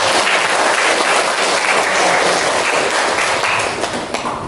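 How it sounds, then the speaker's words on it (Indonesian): Applause for a presenting student group in a classroom teaching session, a dense, steady wash of clapping hands that stays loud throughout before thinning slightly at the end. "Oke, beri aplaus untuk."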